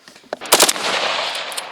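A short burst of rapid machine-gun fire during firearms training, sharp and loud, followed by a lingering echo.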